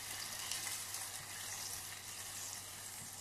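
Milk goes into hot caramel in a pot just off the stove, and a soft, continuous sizzle and bubbling hiss follows while it is stirred, close and even throughout, with no voices.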